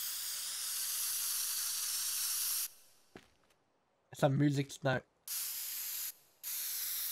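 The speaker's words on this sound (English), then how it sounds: "Spray can. Oh, can I spray walls?" In the destruction game Teardown, a spray can hisses in long steady bursts at close range, stops for a quiet stretch with a short spoken comment, then resumes hissing in two more runs.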